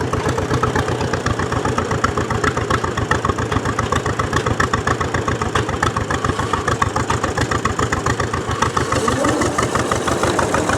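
A 1929 John Deere GP tractor engine runs steadily alone, its loud, close exhaust beating in an even, rapid putt-putt rhythm throughout.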